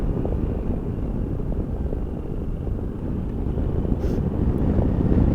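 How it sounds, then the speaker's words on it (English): Strong wind buffets the microphone in a steady low roar while riding a 2021 Piaggio Beverly S 400 scooter on a very windy day, swelling slightly toward the end with no voices. "Oh, it is very windy, so it will not be so nice on the highway."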